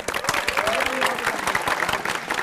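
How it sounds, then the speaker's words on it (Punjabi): An audience at a college talk show in Karnal applauds for team A, with dense, continuous clapping of a crowd that stays at an even level for the whole stretch. "ਟੀਮ ਨੰਬਰ ਏ, ਜ਼ੋਰਦਾਰ ਤਾੜੀਆਂ ਜਿਹਨਾਂ ਲਈ।"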